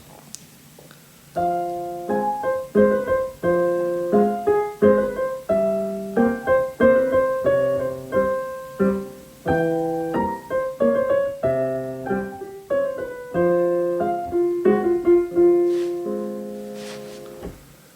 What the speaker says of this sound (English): what you hear now is a very smooth waltz.